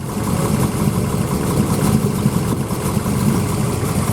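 A carbureted hot rod engine idles steadily and fairly close at Atlanta Motor Speedway during the Hot Rod Power Tour, with an even, continuous rumble and no talking.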